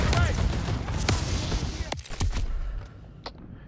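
Call of Duty WW2 campaign gunfire, several sharp individual shots and booms cutting through a busy battle mix, with a voice talking over the action.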